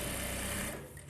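A sewing machine stitches beside the border of a saree, a rapid, even mechanical chatter heard up close that slows and fades near the end of the brief burst.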